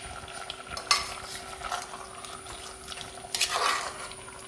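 Avial being stirred with crushed ingredients and curry leaves: quiet, close scraping and clinks of a spoon in the pot over a faint, steady background hiss, with a couple of sharper scrapes, no talking.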